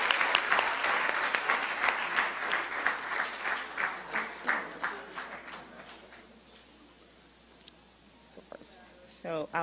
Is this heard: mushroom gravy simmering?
no